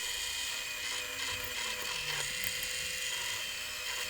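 Small drill boring 2 mm holes into a metal bracket, a steady high-pitched whine running continuously with a faint lower tone sliding downward as the bit cuts through.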